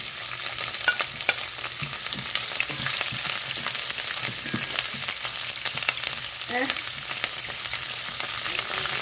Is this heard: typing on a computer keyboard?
no